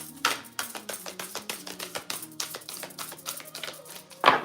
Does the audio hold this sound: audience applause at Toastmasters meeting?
no